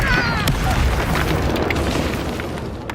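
A Confringo blasting spell explodes in Hogwarts Legacy, a loud, close boom with a dense rumbling burst that trails off into crackling debris and fading roar.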